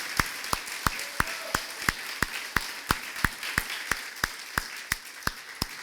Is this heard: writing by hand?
no